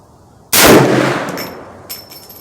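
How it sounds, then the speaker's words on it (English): A single loud, close rifle shot from a .450 Bushmaster firing a Hornady FTX bullet at a target 75 yards out, a sudden sharp crack that rings out and fades over about a second, with a faint clink after. "I'm going to be shooting with the FTX bullet, left upper target, first shot."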